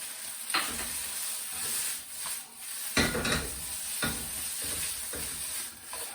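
Spring onions and chili sizzle in a hot wok as Singapore noodles are stir-fried, with a steady hiss broken by repeated scraping and tossing of a utensil against the metal.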